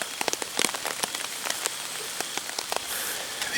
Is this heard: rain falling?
yes